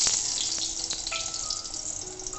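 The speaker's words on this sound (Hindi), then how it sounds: "माय प्रेफर्ड ऑयल है सरसों का तेल, तो मैंने वही डाला, तो उसको तलना स्टार्ट करते हैं" Eggplant slices cut about half an inch thick fry in mustard oil, a steady close crackling sizzle with a few sharper pops and no voices.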